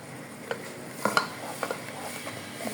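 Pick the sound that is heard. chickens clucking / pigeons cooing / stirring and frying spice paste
stirring and frying spice paste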